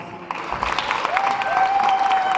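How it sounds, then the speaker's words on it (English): Audience applause at a pageant crowning ceremony as Miss India USA 2017 is introduced. A steady wash of clapping fills the short moment at moderate volume, with a faint whistle or cheer rising through it. "Please give her a round of applause."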